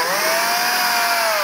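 A power drill boring a pilot hole into a board, a loud continuous high-pitched motor whine with a slowly shifting pitch, close and steady for a brief moment with no voices.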